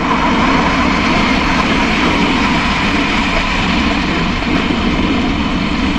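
Steady loud engine drone and wind roar from a motorbike cruising on a long-distance tour between Dhaka and Sylhet, continuous and unbroken throughout with no talk.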